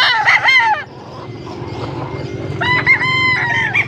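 Roosters crow loudly with harsh, stretched calls, two bursts separated by a pause, over a steady low rumble of background noise at a gamecock market.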